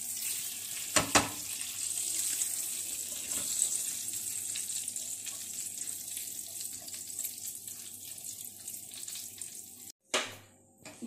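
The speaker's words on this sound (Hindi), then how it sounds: "चलो तेल गरम हो रहा है, ये जो हमने बचा के रखे थे ना सेसमी सीड्स, ये हम इसमें डाल देंगे।" A spoonful of sesame seeds heats in hot oil in a pan, giving a steady, faint sizzling hiss, with short clattering bursts near the start and again near the end.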